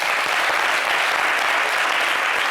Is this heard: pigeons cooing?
no